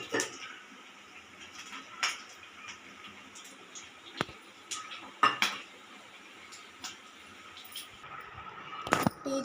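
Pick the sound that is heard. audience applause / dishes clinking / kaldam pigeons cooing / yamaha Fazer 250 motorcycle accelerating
dishes clinking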